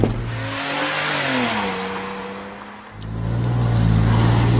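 A BMW Z4 2.5i with its inline 2.5-liter six-cylinder engine drives past: a loud, smooth engine note that rises, dips as the revs fall, then swells again with a strong steady drone.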